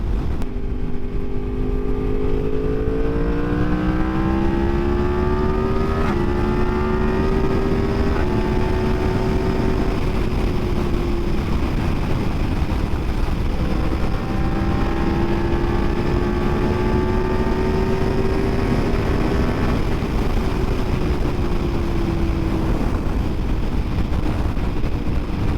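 A 2023 Yamaha MT-10 motorcycle engine pulls hard in fifth gear from low revs on Louisiana back roads, its loud, steady drone rising in pitch over wind roar, easing briefly, then climbing again for the whole stretch.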